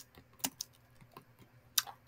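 Typing on a regular computer keyboard during a typing game, a handful of irregular close key clacks with two louder strikes standing out, no talking.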